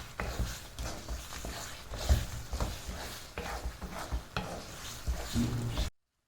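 Citron pachadi with curry leaves is stirred in a pan, giving repeated scraping and clattering strokes of the spoon over a low background sizzle, then an abrupt stop.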